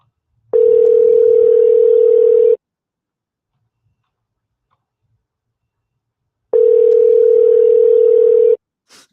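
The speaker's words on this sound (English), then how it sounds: "When the phone rings in Australia, does it sound like that to you guys too?" Telephone ringback tone heard while a call waits to connect. Two long steady buzzing rings, each about two seconds, are separated by a silent gap of roughly four seconds. The tone is clean and loud and has no talk over it.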